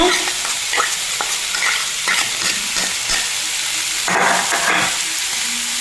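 Chopped carrot and coriander leaves being stirred in a hot pan for a chicken bread sandwich, loud close sizzling with repeated scraping strokes and a few sharper clatters near the end.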